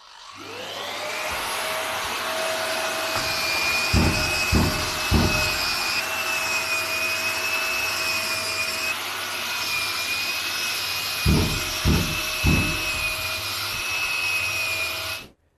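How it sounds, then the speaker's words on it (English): A Bosch drywall sander works across drywall walls with dust extraction running, giving a steady whirring drone throughout, with two short bursts of scraping knocks as the pad moves over the surface. "Now that we've finished sanding the walls"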